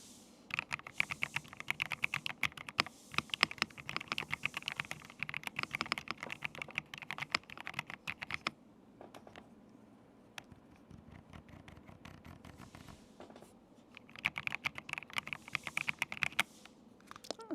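Steady typing on an RK Royal Kludge S104 keyboard, a close flurry of rapid clicky keystrokes with a brief slower stretch and a few isolated taps in the middle before fast typing resumes.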